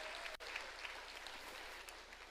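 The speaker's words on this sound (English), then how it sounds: "I need a bigger round of applause for these students." Audience applauding students at a high school spring concert, a steady dense patter of many clapping hands heard from a distance and fairly faint, continuing evenly throughout.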